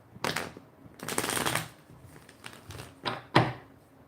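Tarot cards are shuffled close up in several quick riffling bursts, with brief pauses and a final sharp tap.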